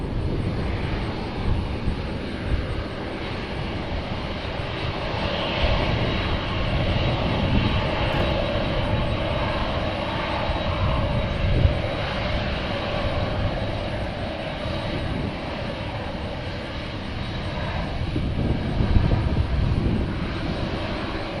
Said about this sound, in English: So another heavy takeoff from 18 right.